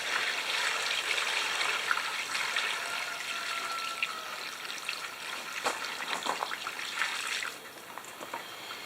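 Hot water pours and splashes into a bucket with a little Dawn dish soap for a pre-soak of petrified wood, a steady trickling gush with brief bubbly splashes, fairly quiet and continuous.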